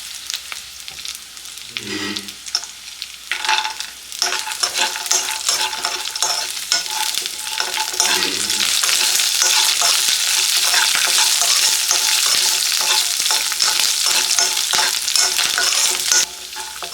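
Peanuts, dried red chillies and curry leaves fry in oil on a low flame, a steady crackling sizzle that grows denser and louder partway through, with occasional spoon scrapes and no talking.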